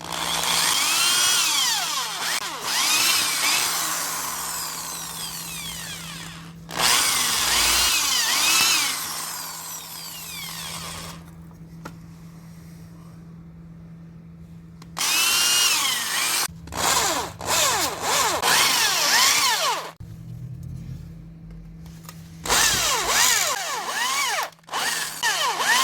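Power drill repeatedly boring out spot welds in the steel quarter panel of a 1977 Mercury Cougar, loud sustained whining bursts with short pauses between holes, close up, no talking.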